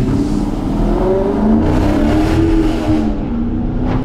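Dodge Charger Scat Pack launching, its engine revving in a loud, continuous, steadily climbing roar that holds close and strong throughout, with no voices.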